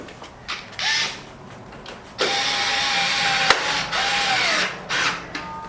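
A power drill drives small screws into a carbon fiber ZL1 1LE body kit on a 6th-gen Camaro SS in short bursts, its whine rising and falling with several brief pauses between loud, close spins.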